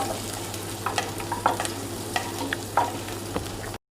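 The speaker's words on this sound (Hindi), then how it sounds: "इसको हल्का सा भूनना है जब तक इसका रॉ फ्लेवर ना चला जाए" Ginger sizzles and fries in a pan as the sauce for honey chicken wings is stirred: a steady close sizzle with soft scraping clicks of the spoon, and no talking.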